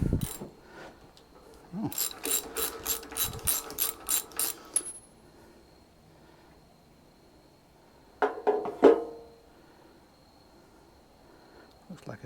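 A 13/16 socket wrench ratchets on the spark plug of a Briggs & Stratton engine on a homemade mini farm tractor. Two bursts of quick, close clicking are separated by a quiet pause, with a brief exclamation from a person.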